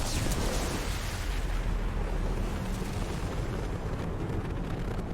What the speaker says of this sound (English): they have an extra big explosion on death